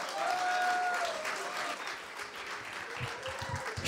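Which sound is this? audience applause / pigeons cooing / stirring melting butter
audience applause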